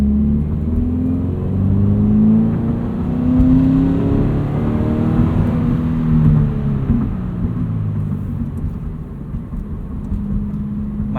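A Subaru BRZ with a stage 1 tune accelerating flat to the floor in third gear from about 1500 RPM, a loud rising engine drone with climbing harmonics heard from inside the car, steady throughout.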